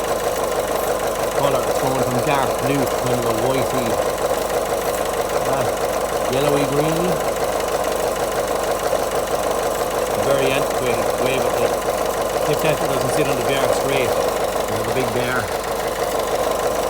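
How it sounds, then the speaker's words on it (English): A Peugeot/Citroen 1.6 diesel engine idles with a steady, even clatter and ticking, recorded up close and loud, while someone talks continuously over it. "Sorry about the noise of the engine running."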